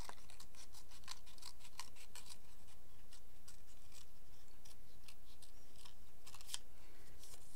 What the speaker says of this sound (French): Et je vais découper autour.